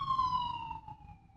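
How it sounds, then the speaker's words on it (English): A police-type emergency siren wails faintly at a distance, one steady descending tone with clear harmonics fading out over a low rumble. "Sorry for the sirens."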